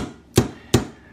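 Two sharp hammer blows from a Craftsman multi-hammer striking a coin, evenly spaced, close and loud with clean metallic impact and quick decay, no talking.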